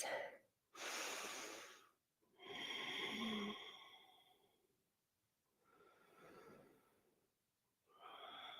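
Slow, deep breathing during a relaxing yoga session, several long, close, airy inhales and exhales following one another with short pauses between them.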